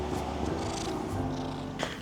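Sparky, a pet cat, purrs in a low, steady rumble close by, the soft throaty vibration rolling on continuously with no meowing or voices.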